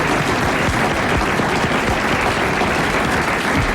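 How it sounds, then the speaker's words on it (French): A radio show's studio audience breaks into loud, dense applause, a thick, continuous roar of clapping at close range that fills about four seconds with no voices over it. "Le nouveau jeu des grosses têtes et vos applaudissements."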